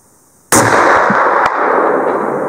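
A single loud rifle shot fired with a 400 grain Barnes Original bullet at a 200-yard target outdoors in the Yukon in December, a sharp crack followed by a long rolling echo, with no voices.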